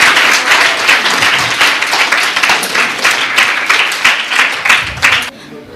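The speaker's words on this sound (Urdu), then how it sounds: "ایک بار سر کے لیے زوردار تالیاں ہو جائے۔" A crowd gives loud, sustained applause with dense clapping that rises and falls at a school welcome event for Ramadan, then cuts off abruptly near the end.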